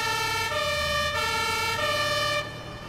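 An electronic fire engine siren horn from the firefighting simulation game Notruf 112 blares in alternating two-tone blasts, loud and close, switching pitch roughly every half second before dropping off near the end.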